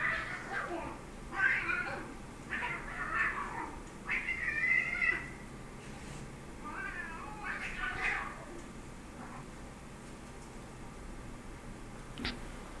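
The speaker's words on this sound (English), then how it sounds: "watch this clip of me being interrupted by a cat throwing hands with some other creature" A cat fighting another creature, a run of loud meows and drawn-out caterwauls in bursts with short gaps, then quieter background with a sharp click near the end.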